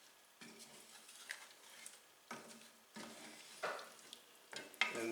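Spices such as ginger, turmeric, cumin, paprika, garam masala and cayenne stirred in a pot for chicken tikka masala, giving several soft scraping sweeps over a faint sizzle, close by with no voices.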